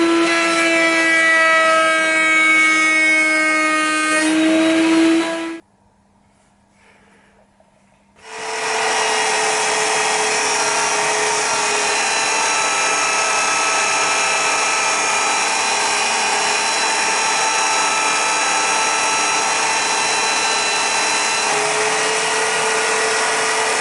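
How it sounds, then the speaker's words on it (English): Router table with a trim bit cutting curved timber for a headboard: a loud, sustained high whine of the spinning router, briefly dropping to near silence before spinning up again and running steadily, close and unbroken with no talk. "use a guide or trim bit on your router table"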